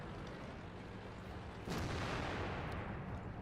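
A single heavy tank cannon shot in World of Tanks booms out midway through a steady background rumble of battle, followed by a lingering roar.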